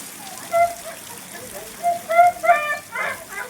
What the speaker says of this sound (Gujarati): વરસાદ અત્યારે ચાલુ જ છે